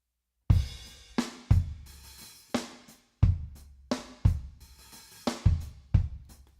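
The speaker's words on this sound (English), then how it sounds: "here's the sound of everything after these drums were mixed" A mixed drum kit with overhead microphones, processed through a Waves Scheps Omni Channel, plays a sparse groove of punchy kick and snare hits with cymbal wash, about a dozen distinct strikes, close and clean with no talking.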